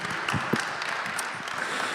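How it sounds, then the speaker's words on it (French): Applause from a seated audience at a morning public-sector data conference in Occitanie, a steady, moderately loud patter of clapping filling the hall with a few sharper individual claps standing out. "vous pouvez les applaudir"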